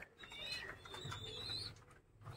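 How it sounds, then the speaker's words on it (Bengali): Racing pigeons in a loft give soft, low cooing with faint chirps over a quiet background hum, fairly close and continuous. "এই যে দাদা রেসার পায়রা সব"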